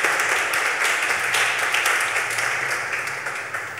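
An audience at a church youth gathering applauds, a continuous wash of clapping that gradually tapers off toward the end, with a faint low hum underneath.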